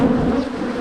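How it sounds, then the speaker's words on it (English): Honeybees buzz on a brood frame lifted from a nuc: a dense, steady, close-up hum of many bees with no pauses. "lots of bees"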